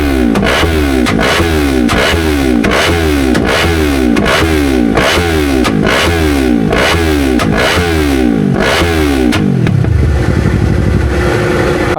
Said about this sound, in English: Not only is going to hear the increased exhaust note, or the better exhaust note, he's going to hear a few little pops here and there.